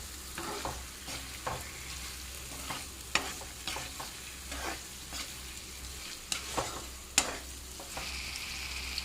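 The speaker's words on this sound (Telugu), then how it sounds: "సో అందుకే ఇట్లా లైట్గా చిన్నగా కలబెడుతూ ఉండాలి" Paneer pieces gently stirred and fried in a pan for a mint paneer pulao: soft, irregular spatula scrapes and taps over a steady low sizzle, close and moderately quiet.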